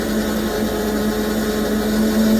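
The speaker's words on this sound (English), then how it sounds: "Sounds like my pump's just about dry." A steady mechanical water pump hum with a strong low drone, continuous and close, straining as it runs nearly dry.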